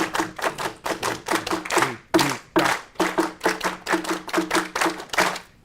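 A group claps in unison in a rehearsal setting, sharp rhythmic claps in short bursts tracing the syllables of a sung phrase, with brief pauses between groups and no talking.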